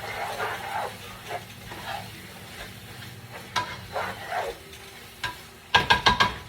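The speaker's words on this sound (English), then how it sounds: "just want to make sure I keep my ground beef stirred up" Ground beef frying in a pan is stirred, giving a soft steady sizzle with scraping passes of the utensil and a few sharp clinks near the end.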